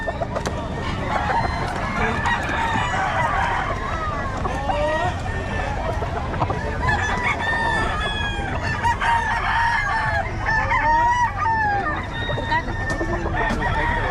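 Several roosters crow repeatedly over constant clucking from a crowd of chickens, busy and close, with people talking underneath.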